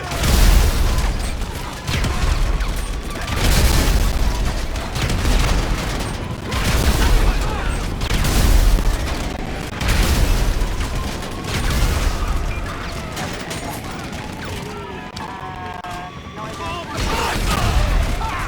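Repeated bomb explosions in the video game GTA 5, a series of heavy booms and gunfire-like bursts recurring every couple of seconds, loud and close, with a voice talking over them.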